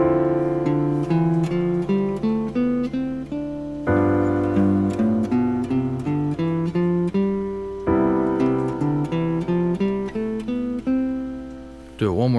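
Jazz guitar runs Dorian, Mixolydian and Ionian scale lines over a ii–V–I progression in C, single notes moving stepwise above sustained chords, with the chord changes landing at steady intervals, close and clear.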